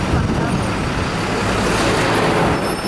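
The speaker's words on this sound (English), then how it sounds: "Oh, and that's a bus, Simon." A bus rolls by in loud street traffic, a broad continuous roar of engines and tyres close to the listener, with no clear gaps.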